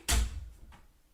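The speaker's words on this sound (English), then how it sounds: "You just closed the door." A door shut by a cat closes with a single close, dull thud, followed by a softer faint knock a moment later.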